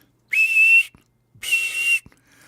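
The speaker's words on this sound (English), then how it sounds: "They put it in their mouth, and they blew it real hard." Two sustained shrill blasts from a squeaker toy blown like a whistle, each about half a second long, separated by a short pause, loud and close with a breathy edge.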